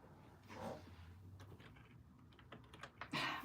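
Someone types on a computer keyboard in a quiet room: soft, irregular key clicks at close range that grow busier and louder toward the end, with no speech.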